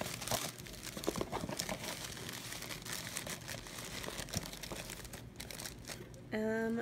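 Crinkle paper rustles inside a Daiso bag, packed around handmade embellishments; a steady, close crackling and crumpling runs throughout, with a few sharper crunches.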